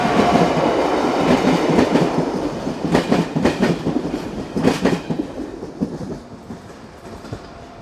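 Slovenian locomotive 541008 hauling the 18:20 passenger train from Sežana to Ljubljana, a steady rolling rumble with rhythmic clickety-clack of wheels over rail joints, moderately near, easing slightly toward the end.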